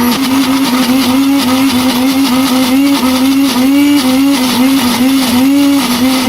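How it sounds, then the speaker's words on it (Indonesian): Blender whirring loudly up close as it grinds shallots, garlic, candlenut, ginger, galangal, lemongrass and cardamom into a paste, a steady high motor whine with rhythmic wobbles as the contents churn, with no talking. "Semua bumbunya ini langsung di blender"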